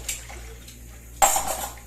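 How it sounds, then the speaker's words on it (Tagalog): Dishes are washed at a sink: two plates, a pan and utensils clink under soft running water, with one sharp close clatter midway through the quiet washing. "2 pinggan at isang kawali aking hugasan at mga utensils."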